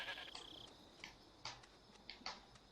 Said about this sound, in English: It's a makor, which is a type of goat